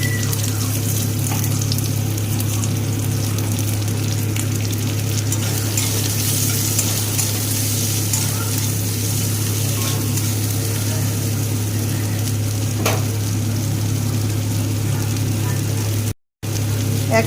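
Chopped onions frying in oil with cumin and poppy seeds give a steady, continuous sizzle in a pan, loud and close throughout, with a brief dropout near the end.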